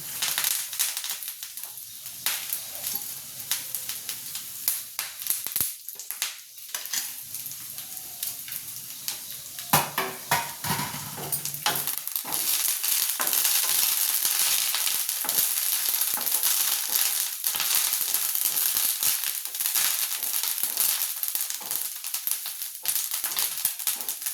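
Curry leaves and urad dal frying in hot oil for gogula pachadi, a long steady crackling sizzle with bursts of sharp spattering pops that grow louder partway through, no talking.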